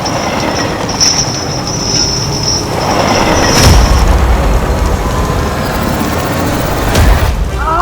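A train rolls loudly along rails in a superhero TV drama, with a continuous rumbling roar, a brief high squeal of wheels and heavy booming impacts.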